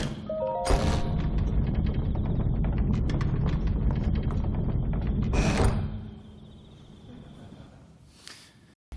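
A door in the video game Zelda: Tears of the Kingdom moves open with a dense mechanical rattling and clattering for several seconds, ends in a heavy thud, and is followed by quieter ambience.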